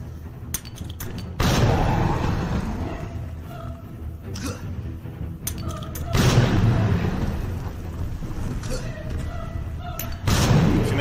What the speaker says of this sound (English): I was nervous, so I just started pitching grenades